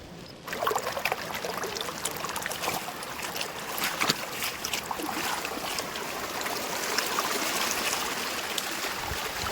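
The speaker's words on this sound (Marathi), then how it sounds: "नाल्यामधून पाणी कसं वाहत आहे" Water runs through a small stream channel beside soybean fields in Maharashtra during the monsoon. It makes a steady, fairly quiet trickle and gurgle with occasional splashy clicks and no voices.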